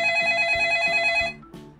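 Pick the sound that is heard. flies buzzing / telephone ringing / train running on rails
telephone ringing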